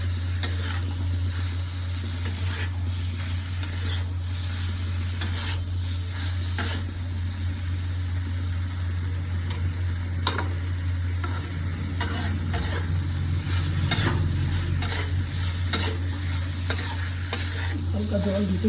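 Katla fish curry with cauliflower sizzles steadily in a pan while a utensil stirs and scrapes it, giving a continuous close frying hiss with repeated clinks and knocks.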